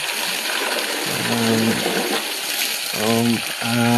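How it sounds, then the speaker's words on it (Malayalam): Water splashes and gushes across the floor where an elephant stands as it is washed clean, a close, continuous wet spatter with a voice talking intermittently over it. "ആന നിൽക്കുന്ന സ്ഥലത്ത് ഇങ്ങനെ വെള്ളം അടിച്ച് വൃത്തിയാക്കി നല്ല ക്ലീൻ ആക്കിയിട്ട്"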